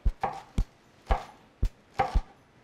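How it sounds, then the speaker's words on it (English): A knife cuts thinly through rolled lettuce on a board, leaving several crisp, close thuds at an uneven pace, some in quick pairs, with light rustling between strokes. "I roll this lettuce like this. And then I just kind of gonna chop it kind of thinly."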